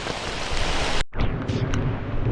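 Rain and hail pour down on forest ground along a hiking trail, a dense loud patter broken by a sudden brief gap, then resuming with scattered sharper hits.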